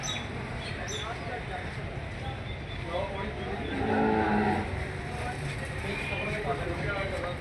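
Cattle low in a livestock market shed at Niamuana mandi, a drawn-out moo rising over a busy crowded background, with people talking nearby.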